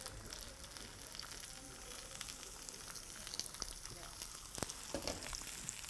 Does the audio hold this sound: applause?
no